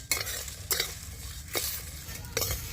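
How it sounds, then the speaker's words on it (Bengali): Spices stirred in a pan over low heat while making a sweet-sour elephant apple pickle, with a soft continuous sizzle broken by four brief scraping strokes of the spoon against the pan. "এইভাবে নাড়তে হবে তা না হলে কিন্তু মশলাগুলো পুড়ে যাবে আঁচটাকে একদম হালকাই রাখতে হবে"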